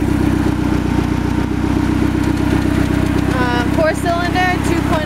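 A 1998 Ford Contour's 2.0-liter four-cylinder engine idles close by with a steady, even hum, while someone talks briefly over it near the end.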